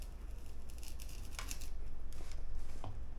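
Knife slicing a sweet potato into wedges on a cutting board, a few short crisp cuts and scrapes close by over low background hum, no talking.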